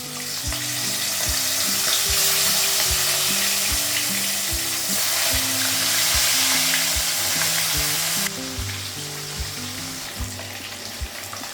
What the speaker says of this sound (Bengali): তেলটা গরম হয়ে গেছে, মাছটা লাগাবো